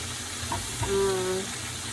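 Galunggong (round scad) fish frying in hot oil, giving a steady, close crackling sizzle with a brief whistling tone midway, with a voice talking over it.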